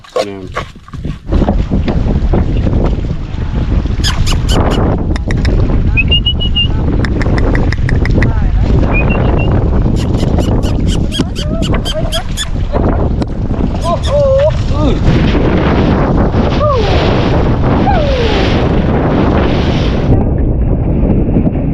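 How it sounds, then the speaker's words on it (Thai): Strong, unusually violent gusting wind roars steadily and loudly at close range, surging and easing back and forth with heavy buffeting on the microphone, while someone speaks intermittently beneath it. "ลม กลับไปกลับมาแบบนี้"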